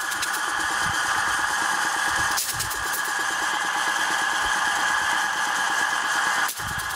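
An old three-phase electric motor drives a compressor with a steady, continuous mechanical whir and hum, running evenly close by with a brief dip near the end.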